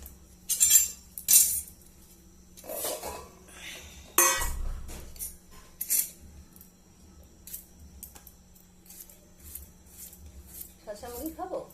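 Puffed rice and cucumber are tossed together in a bowl, bringing scattered clinks and scrapes of a utensil against the dish in short bursts, with a person speaking between them.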